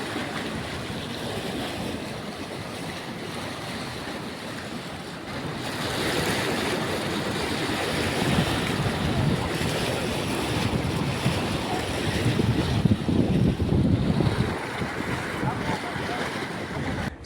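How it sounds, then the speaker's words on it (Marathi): A flooded village river rushes and roars like sea surf, a continuous heavy wash of water that swells louder midway, with wind buffeting the microphone throughout. "समुद्राच्या लाटा कशा असतात तशा खूप असं मस्त आवाज येत होता"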